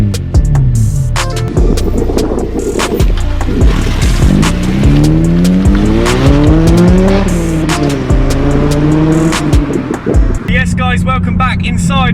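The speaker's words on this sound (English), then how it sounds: "today we're just going to go out, go for a little blast and see what the car sounds like." A Honda Civic Type R EP3 fitted with an M2 Performance back box exhaust accelerates hard through the gears, its engine note rising in long sweeps with sharp shifts between them. A voice talks over the loud, close exhaust throughout.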